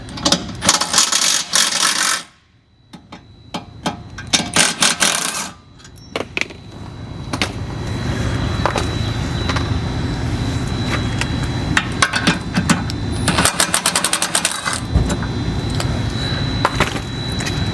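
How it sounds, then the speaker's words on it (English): Metal ratcheting and clanking from a 3/4 inch wrench or socket working on a trailer hitch bolt of a swingout rack system, rapid close clicks in bursts with brief pauses and some metallic knocks. "Then we want to loosen up the hitch with the 3/4 inch wrench or socket."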